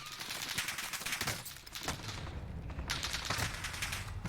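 Gunfire in the Warzone battle royale game: dense, overlapping volleys of shots crackling continuously and loudly across the whole stretch, with a brief dip before the firing picks up again. No voices.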